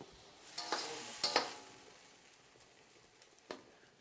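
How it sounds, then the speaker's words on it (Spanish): Sofrito fries softly in a pan, a faint steady sizzle with a few brief stirring scrapes and taps against the pan. "mientras se termina de hacer un poco el sofrito"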